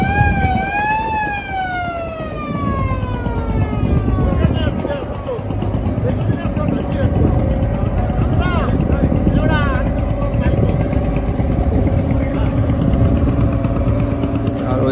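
Passenger launches arriving at a river ghat from Barisal, with engines droning loudly throughout and a horn sounding in falling tones near the start, over a busy, noisy waterside background.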